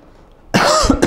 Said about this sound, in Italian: il colpo di tosse che non può mancare nelle mie recensioni